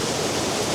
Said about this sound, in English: this river is in full flow